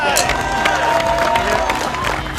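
A live crowd cheering and shouting continuously, loud and dense throughout, with scattered clapping and voices mixed into the roar.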